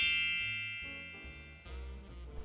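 A bright notification bell dings once and rings out, its tone slowly fading, followed by softer tinkling chime tones toward the end, all alone with no talk.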